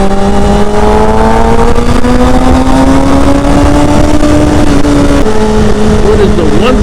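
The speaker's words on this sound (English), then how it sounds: "learning how to ride a 600 Super Sport motorcycle" A 600cc supersport motorcycle being ridden on the road, its engine holding a steady drone with a gently rising pitch and a brief shift near the end, loud and continuous with wind noise and a voice talking over it.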